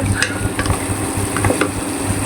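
Lentil dumplings (bori) fry in a pan with a steady, close sizzle, broken by a few scraping stirs of a spoon.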